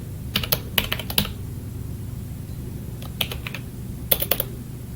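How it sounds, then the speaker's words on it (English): Computer keyboard typing while entering a password during a Parrot Linux installation: three clustered bursts of quick, crisp keystrokes, close and clear, separated by pauses over a steady low hum. "let's type this in real quick."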